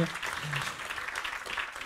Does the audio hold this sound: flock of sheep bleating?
no